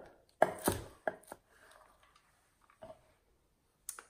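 A knife chops through vegetable greens, stems and leaves, on a cutting board: a few sharp close thuds in a quick cluster, then sparse softer cuts with quiet gaps between them.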